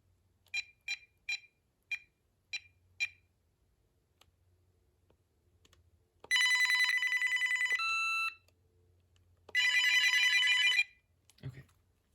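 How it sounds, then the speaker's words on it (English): Two VTech 5.8GHz analog cordless phone handsets ring: a run of short electronic beeps, then two long bursts of loud, warbling trilling ring tone separated by a pause, close up and clear with no talk. "I need to do ring back so we can see how these sound when they ring."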